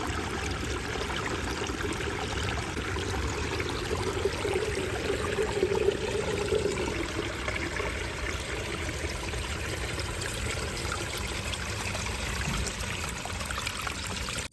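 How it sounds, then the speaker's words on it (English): A creek runs over river rock, producing a continuous, close rushing and trickling wash of water that stays steady throughout with no voices. "So we have our beautiful creek here"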